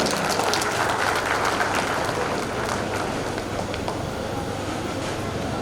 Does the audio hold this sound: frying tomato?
no